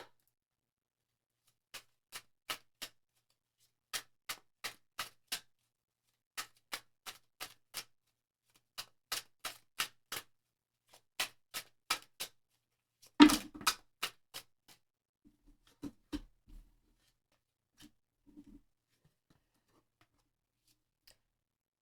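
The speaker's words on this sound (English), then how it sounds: "shuffle the cards." Tarot cards being shuffled by hand: sharp, close, dry clicks and snaps in quick bursts with short pauses between, followed by a louder rustle and a few scattered soft taps, otherwise quiet.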